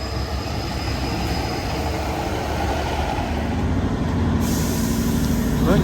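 A train for Exmouth pulls into St James Park station in Exeter with a loud, steady rumble. A hissing air-brake release swells toward the end.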